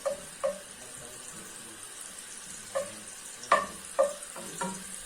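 Butter melting in a pot for restaurant-style mashed potatoes gives a faint, soft sizzle, broken by a few clinks and scrapes of a utensil stirring against the pot.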